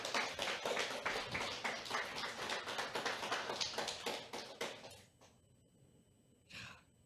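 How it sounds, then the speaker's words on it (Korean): A church congregation at a main-sanctuary worship service claps in thanks, with fast, dense clapping for about five seconds before it stops abruptly, followed by near silence and a brief faint burst. "여러분 뜨거운 감사의 박수를 한번 보냅시다"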